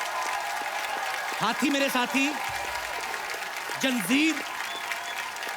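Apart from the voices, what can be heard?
studio audience applause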